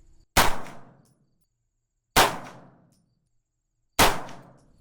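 Three pistol shots from a Nighthawk Custom Sand Hawk fitted with a Trijicon RMR while zeroing, evenly spaced about two seconds apart, loud and sharp with short decaying echoes and silence between.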